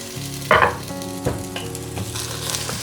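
Onions and potatoes fry in a soup pot, giving a steady soft sizzle with a few scraping stirs and clinks, close and moderately quiet, with no talking.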